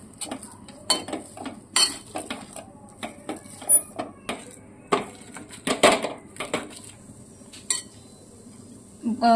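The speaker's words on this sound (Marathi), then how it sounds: "हे आता आपल्याला स्मॅशरने स्मॅश करून घ्यायचं आहे, जेणेकरून हे छान मिक्स होईल" A masher pressing soaked poha and potato tikki mixture in a metal pan, giving repeated close clanks and squishy thuds in an uneven rhythm, loud and without speech.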